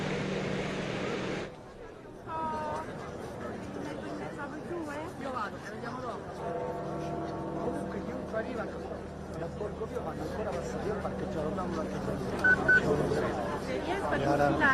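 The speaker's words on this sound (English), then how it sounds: "And Christopher, we're going to pause for a moment and hear those bells ringing out." Church bells ring out at St. Peter's in Vatican City after the death of Pope Francis, sustained tolling tones over a busy murmur of crowd and background noise, steady and fairly loud throughout.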